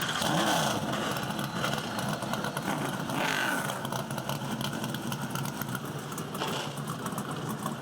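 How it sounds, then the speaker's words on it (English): Whelen Modified Tour race car engines firing up together at Stafford Motor Speedway, a dense, steady engine roar with revving bursts, distant crowd and track ambience. "Drivers, start your engines!"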